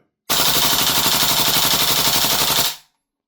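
A propane-powered Tokyo Marui AKM airsoft rifle fires one continuous full-auto burst of rapid, evenly spaced shots. The burst lasts about two and a half seconds, loud and close, then stops abruptly.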